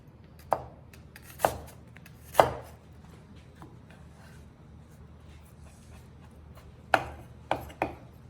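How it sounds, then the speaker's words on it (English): Knife chops diced onions on a cutting board for a chicken liver dish, about six separate sharp thuds spaced irregularly across a quiet kitchen, with longer gaps between them. "So I just finished cutting the onions."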